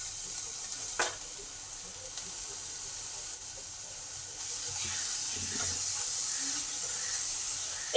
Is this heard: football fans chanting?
no